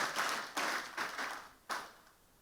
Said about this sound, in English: Can we have that round of applause for Nigeria,